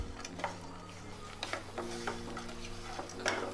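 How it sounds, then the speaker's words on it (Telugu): Almonds, cashews and pistachios stirred in a pan over a low flame for dry fruit laddu: soft, irregular clicks and scrapes of stirring over a faint sizzle, close and quiet. "ఇప్పుడు కలయి పెట్టుకుంటూ సిమ్లో పెట్టుకొని ఒక 3 నిమిషాల పాటు ఫ్రై చేయాలి."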